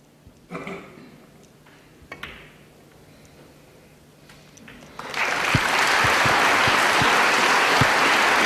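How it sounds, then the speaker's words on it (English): Applause from a snooker match audience breaks out after a few quiet taps and murmurs, becoming a dense, sustained wash of clapping that fills the arena. "Generous round of applause from the audience"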